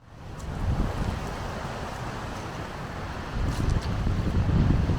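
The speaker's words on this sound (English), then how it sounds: "the river absolutely raging in this weather" Raging river and waterfalls on the Watkin Path, Snowdon, in heavy rain, a steady loud rushing roar of water mixed with wind buffeting the microphone.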